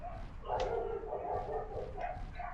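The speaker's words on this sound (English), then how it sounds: "Jeez, all the dogs are going off now." Dogs bark in the background of a city-street combat game, several faint yapping barks overlapping at a distance over low ambient noise.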